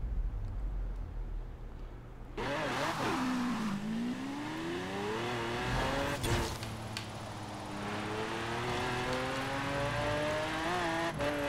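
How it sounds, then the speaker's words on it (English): A car in the racing game Forza Horizon 4 launches and accelerates at full throttle, its engine note climbing steadily and loud through the gears with a brief impact or thump partway through, no talking. "And then just go full throttle."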